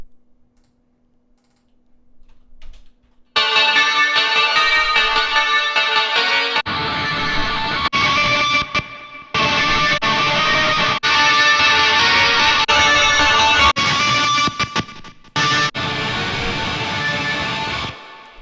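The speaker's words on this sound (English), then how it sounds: "To add some like a guitar distortion pedal" Music run through a Guitar Rig amp distortion plugin to match a bass line, entering loud and dense after about three seconds of near silence, with a few brief dropouts as settings change.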